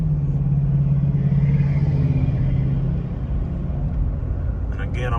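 A Chevrolet Tahoe with a suspected hard shift from first to second gear accelerating at regular throttle, a loud engine drone that holds steady and then dips at the shift, heard close from inside the cab.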